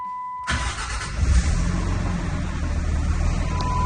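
A rebuilt 5.9 Cummins diesel engine starting for the first time, cranking briefly then catching into a loud, steady, rumbling idle that runs on close by.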